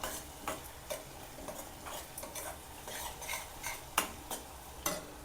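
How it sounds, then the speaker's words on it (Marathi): Onion with turmeric sautéed in a pan, with a spatula scraping in regular strokes over a quiet sizzle and no talking. "याच्यामध्ये थोडी हळद टाकूया, परतून घेऊया"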